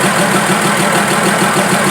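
A Fiat 190 truck engine idles steadily while warming up, a continuous near rumble with a faint knocking texture and no talk.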